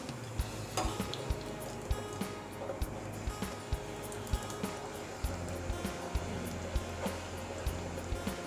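Bhatura dough frying in hot oil gives a soft, steady sizzle close by, with regular light ticking clicks running through it.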